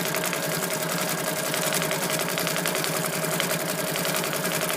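A Bernina 730 sewing machine runs steadily through a circular decorative stitch, a continuous fine mechanical whir with rapid needle pulses, moderately loud and close, with no talking.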